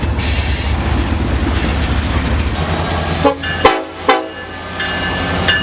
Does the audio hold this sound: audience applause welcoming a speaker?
no